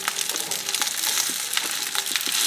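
Japanese rice balls frying in a pan, a continuous loud bright sizzle with crackling pops and soft stirring scrapes, close and with no talk.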